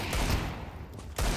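Desert Eagle pistol fire in the video game Counter-Strike 2, heavy close gunshot bursts opening and closing a short moment of loud game noise.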